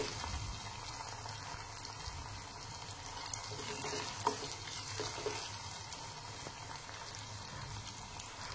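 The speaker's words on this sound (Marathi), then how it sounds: "आता सगळं छान परतलं गेलंय।" Dal tadka ingredients sauté in hot oil in a pan over low gas, a steady soft sizzle and bubbling crackle running throughout with one brief clink of a utensil midway.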